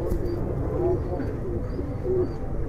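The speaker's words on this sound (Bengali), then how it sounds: "দেখেন খুব সুন্দর পাখার কবুতর" Giribaz pigeons coo softly and continuously in a loft, a low steady murmur under background noise.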